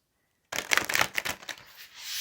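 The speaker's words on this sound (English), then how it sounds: "Cards are always so big, it's hard to shuffle." Large oversized cards shuffled by hand, a run of soft papery riffles and slaps close up, starting after a brief silence and continuing steadily.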